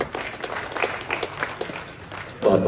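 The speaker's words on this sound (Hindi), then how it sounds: "जोरदार तालियां।" Audience applause at a Kashmir jayanti celebration for Dr. Syama Prasad Mukherjee during a release ceremony, a steady patter of clapping from a crowd that swells louder near the end.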